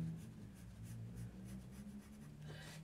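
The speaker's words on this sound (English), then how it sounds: "And then I'm going to freehand draw this section." Pen drawing freehand on a miniature diorama section, a faint, close scratching and scribbling in short strokes over a low background hum.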